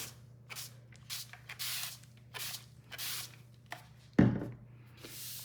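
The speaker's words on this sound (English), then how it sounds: "So I'm just going to give it a light mist." A spray bottle lightly mists a sheet of decoupage paper, giving one short, close hiss amid soft handling rustles, with no one talking.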